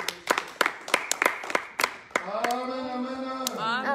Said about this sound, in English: Let us clap our hands for the Lord.